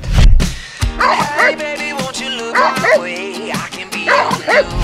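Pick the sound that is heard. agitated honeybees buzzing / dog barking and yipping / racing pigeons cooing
dog barking and yipping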